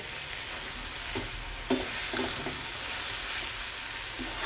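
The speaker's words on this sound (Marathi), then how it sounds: "इथे मोठ्या गॅसवर मी परतवते" Matki usal for Khandeshi khichdi is stirred and fried on a high flame, giving a soft, steady sizzle with occasional scrapes and knocks of the spoon in the pan.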